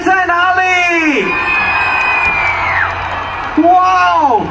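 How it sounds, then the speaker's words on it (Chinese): A huge crowd of about 50,000 screams and cheers at the Pingtung Sandaily music festival in 2021, loud and sustained. An announcer's voice rises over the noise at the start and again near the end. "尖叫声在哪里？"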